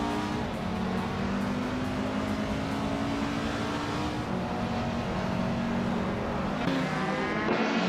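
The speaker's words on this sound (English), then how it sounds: "Dank Nuggins is driving a 2014 Abarth 500 Assetto course." A 2014 Abarth 500 racing in the Assetto Corsa game, its engine droning steadily with a sustained high rev note and shifting pitch, continuous and loud throughout with no talk.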